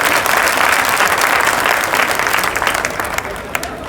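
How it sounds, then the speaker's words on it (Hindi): Dense crowd applause fills a political celebration event in Delhi, loud and continuous, slowly tapering near the end. "जोरदार ताली बजाइए इनके लिए"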